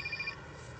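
A mobile phone rings with a steady electronic ringtone, its repeating tone fairly clear but not loud over background ambience for under a second before cutting off.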